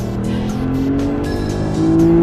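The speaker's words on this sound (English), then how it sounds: "the bark of that V12 engine when it roars to life" Aston Martin DBS with a 6-liter V12 roaring steadily and loudly throughout, a dense sustained engine note with a slight rise in pitch toward the end.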